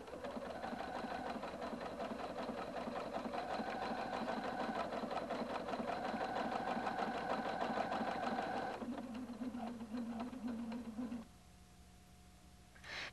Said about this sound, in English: Touch the stitch restart button to begin sewing at the beginning of a heart pattern.